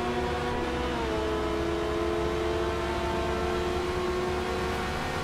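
A race car engine in the Forza racing game holds a steady, droning whine under acceleration on the Ohio circuit, a continuous mid-level tone with no speech.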